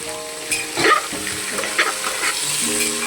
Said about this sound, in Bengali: সবটা আমি নেড়ে ভালো করে একটু ভেজে নেব।